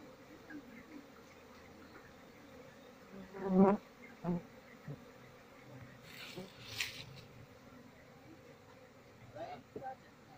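A soft, continuous hum of a honeybee colony buzzing nearby, faint and low, with a few louder passes of individual bees close by, as the colony is moved from a speaker box into a new box.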